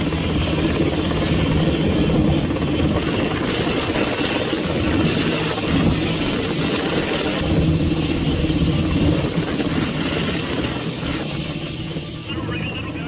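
A heavy lift helicopter hovers over crews cutting towering trees, giving a loud, steady low rotor and engine drone that holds throughout and eases slightly at the end.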